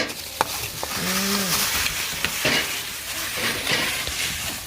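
Ingredients for Thai pork larb are mixed and tossed by hand or spoon, soft scraping and stirring rustles in a quiet, close setting with a brief tonal squeak partway through.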